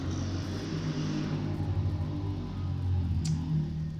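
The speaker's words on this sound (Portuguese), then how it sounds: "e vem as motos." Motorcycles passing by outside: a low, distant engine drone that swells and eases over a few seconds, with no talk over it.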